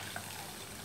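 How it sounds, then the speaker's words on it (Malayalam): Water from a cup pours into a simmering Kottayam-style prawn curry soured with kudampuli: a brief, steady wash of splashing liquid, close and fairly even, with no talk over it. "ഞാനൊരു കപ്പ് വെള്ളം ചേർത്തെടുക്കുവാണേ."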